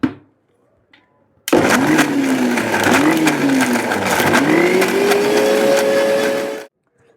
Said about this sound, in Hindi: तो इसको फिर से हम ग्राइंड कर लेंगे